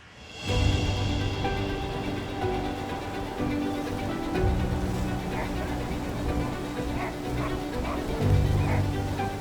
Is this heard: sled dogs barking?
yes